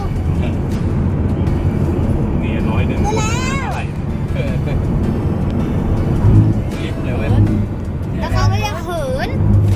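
An airplane takes off at an airport, its steady broad roar continuing throughout beneath several people talking excitedly nearby.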